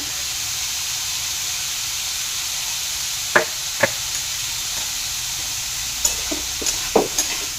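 Cauliflower cooking with turmeric in a pan, a continuous soft sizzle and hiss with several sharp clicks of a spoon stirring against the pan, no talk.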